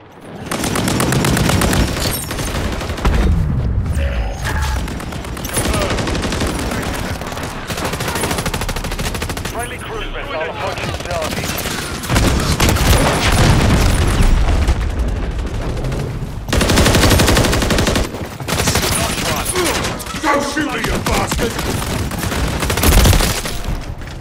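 Loud, sustained first-person shooter gunfire, automatic weapons firing in long rattling bursts with heavy booms mixed in and almost no pause across the whole stretch.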